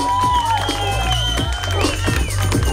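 Crowd at a kids' breakdance battle cheers and claps for the dancer Batman, loud whoops and shouting layered over a bed of applause and thumping background music, sustained throughout.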